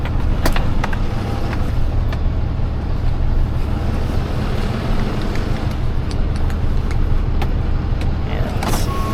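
A 1949 Chevrolet runs with a dense, steady rumble, heard up close. A few sharp clicks and knocks stand out above the continuous engine noise.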